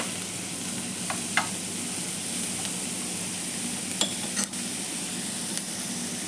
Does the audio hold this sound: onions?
yes